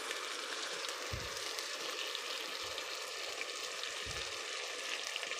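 Frozen jute leaves (saluyot) going into a sizzling pan with chicken, giving a soft, steady frying hiss with a few low thumps, faint and heard without talk.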